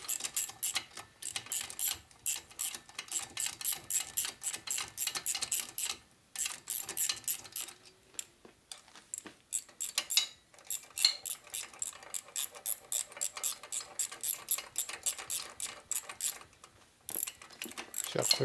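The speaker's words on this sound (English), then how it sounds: "See how quickly this ratchet makes things go together." Rapid clicking of a hand ratchet tightening top-end bolts on a 1980 Harley-Davidson shovelhead 92 ci stroker engine, steady quick pawl clicks in repeated bursts with short pauses, close and alone.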